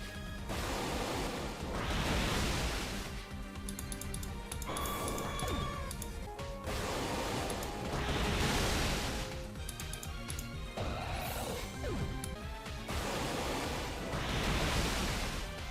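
Crashing, surging water blasts from a Pokémon battle's Waterfall move in a ROM hack of Sapphire, repeating in several loud, noisy bursts with rushing, splashing texture and no talk.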